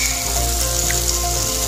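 Squid sautéing with its ink in a pan, a dense, even sizzle hissing steadily up close without pause.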